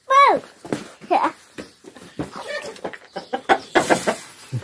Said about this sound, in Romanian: Ăla nu-i curcan, mami, asta-i curcă.